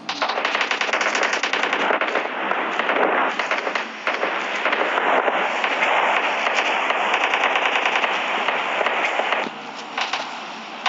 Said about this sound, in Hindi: लेकिन तभी सामने से फायरिंग आई